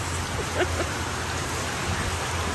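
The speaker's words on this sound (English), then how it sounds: "It's really raining." Steady rain falls as a dense, even hiss of drops on surfaces, continuous and fairly loud, with no voices.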